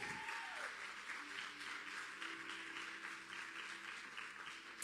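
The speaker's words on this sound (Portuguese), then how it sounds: "Você pode aplaudir o Senhor por isso?" Congregation applauding the Lord at a women's church service, broad continuous clapping heard somewhat distant and soft, with a faint sustained tone lingering beneath.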